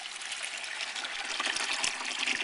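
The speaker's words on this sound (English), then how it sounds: "You need to fill it with filtered water" Filtered water pours into an Emerson portable ice maker's reservoir, a soft continuous gushing trickle that grows slightly louder, with a few faint splashes and no talking.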